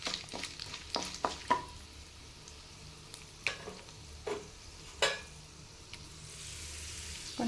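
Ivy gourd pieces frying in a pan, a low steady sizzle punctuated by several sharp scraping stirs of a utensil at irregular intervals, close and otherwise quiet.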